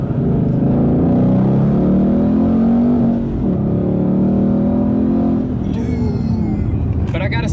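A boosted 2017 Ford Mustang GT pulls hard after a downshift, a loud steady engine drone rising in pitch, dipping briefly at a shift, then climbing again with a voice heard faintly over it.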